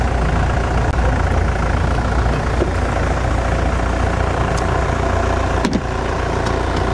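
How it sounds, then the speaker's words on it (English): A Mahindra safari vehicle's engine idles steadily on an evening game drive in the African bush, a loud, continuous low rumble close by with no pauses. "the Mahindra sounds not unlike a great bevy of tractors"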